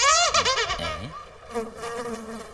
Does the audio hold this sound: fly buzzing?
yes